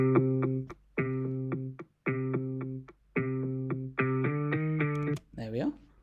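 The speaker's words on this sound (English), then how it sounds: "So we could add a delay, for example, an echo, eighth note echo, subtle wet." Music track in a DAW mix with a subtle, wet eighth-note echo delay added, repeated sustained harmonic chords in short phrases with gaps, ending in a sliding pitched tone, played alone without talk.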